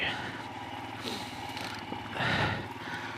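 Royal Enfield Himalayan adventure motorcycle, brand new 2021 model, riding on gravel: a steady, close engine drone under continuous road and wind rumble, with a louder gritty surge near the end.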